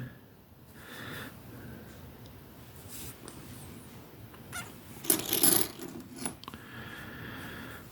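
Ukrainian 10 hryvnia coins being handled close up, quiet rustles and soft metallic clinks, with a bright cluster of ringing jingles midway, otherwise subdued handling noise and no speech.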